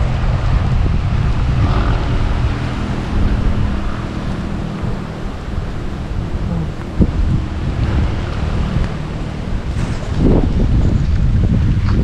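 Strong wind gusts roar steadily across rice paddies nearing harvest during a typhoon, a loud continuous rushing with buffeting on the microphone and a few sharper gusts toward the end.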